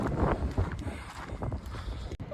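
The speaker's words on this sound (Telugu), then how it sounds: "గాలి మాత్రం విపరీతంగా వస్తుంది." Strong wind gusts across the top of Chapora Fort in Goa at sunset, above the beach, producing a steady, loud, rumbling roar close to the microphone.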